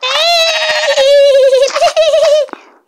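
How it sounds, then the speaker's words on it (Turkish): A sheep in Minecraft bleats in a long, wavering, nasal cry, loud and close, ending abruptly. "Aa, koyun gelmiş."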